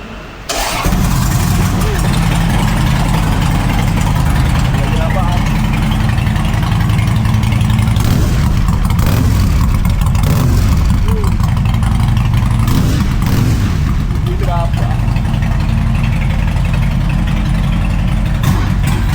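A Harley-Davidson Dyna motorcycle with a fishtail exhaust starts with a loud roar and keeps rumbling and revving up close, thick and throaty, with voices faintly underneath.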